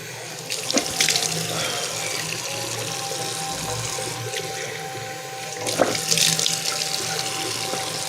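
Tap water runs steadily into a washroom sink while someone washes their face for wudu, with splashes and hand movements breaking the flow twice. The sound is close and continuous, with no talking.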